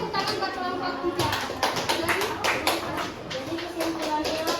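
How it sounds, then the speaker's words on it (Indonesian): Classroom applause for a student group, many hands clapping in a steady patter for several seconds with children's voices murmuring underneath. "Ayo tepuk tangan buat kelompok 3."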